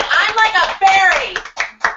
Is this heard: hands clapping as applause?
yes